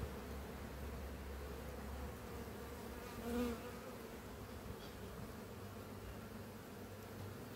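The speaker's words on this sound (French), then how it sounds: "toutes les abeilles qui remontent à la surface" A soft, steady hum of honeybees buzzing in an open Warré hive, low and continuous, with one individual bee droning briefly closer midway.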